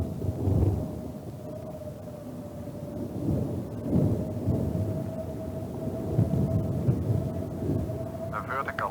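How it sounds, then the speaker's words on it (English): Thunder from a nearby lightning strike heard from inside a glider cockpit: repeated low, rolling rumbles swell and fade over a constant thin electronic tone and airflow hiss. "It's a lightning strike,"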